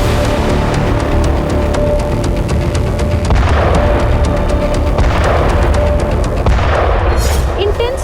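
Heavy artillery gun deployed on high mountain terrain, firing at distant targets: repeated deep booms and blasts over a constant loud rumble, with a voice speaking over the top.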